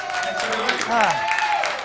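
A live audience applauds a band at a Southern California show, with loud continuous clapping and crowd noise mixed under a voice speaking over it.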